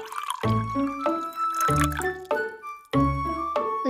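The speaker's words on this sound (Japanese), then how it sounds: "お水を注いでいきたいと思います。" Sparkling water from a 500 ml plastic bottle poured into a glass, with three bursts of gurgling, glugging flow separated by brief pauses, close and fairly loud.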